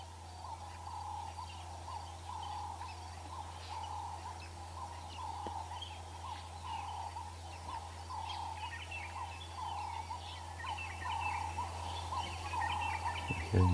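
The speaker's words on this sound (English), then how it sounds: "We're hearing drongos," Birds calling at dawn in an African game reserve, likely drongos, with a steady chorus of chirps and whistles over low background hum, continuous and moderately distant, no talk.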